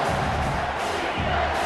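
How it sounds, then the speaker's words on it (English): A stadium crowd in EA Sports College Football 25 roars in a dense, continuous wash of cheering and shouting during a Washington State at Washington game, steady and loud throughout. "This crowd rising up, sensing that its defense needs some help."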